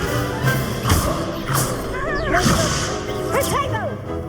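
Incendio fire spell cast during combat in the video game Hogwarts Legacy, with sharp whooshing bursts and thuds repeating through a busy battle mix with gliding vocal cries.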